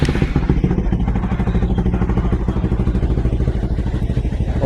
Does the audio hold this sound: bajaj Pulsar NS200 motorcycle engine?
yes